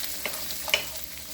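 Onions frying with chicken in a pan on medium heat, a steady soft sizzle close by with a couple of light scrapes as they are stirred.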